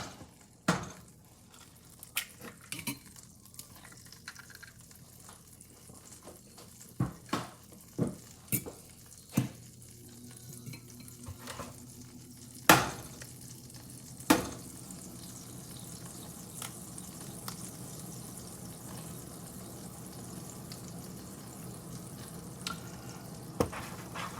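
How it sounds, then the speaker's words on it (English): Butter melting in a frying pan gives a soft continuous sizzle that builds over time. Sharp clinks and taps of a fork, bowl and pan punctuate it at irregular intervals, and no one speaks. "while the butter is melting"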